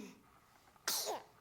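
A dog gives one short, sharp sneeze after a quiet stretch, close and loud, then fades quickly.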